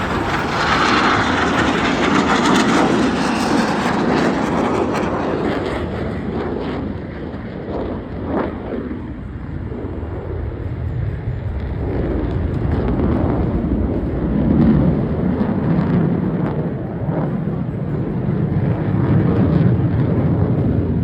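Blue Angels jets roar through opposing horizontal rolls at an air show, a loud, sustained rumble that swells as the aircraft pass, thins briefly, then builds again with heavy wind noise on the microphone.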